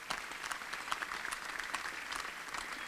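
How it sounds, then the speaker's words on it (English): Audience applauding guests at a technology event, a lively burst of many hands clapping with sharp individual claps standing out, sustained evenly with no talk over it. "please give them a round of applause"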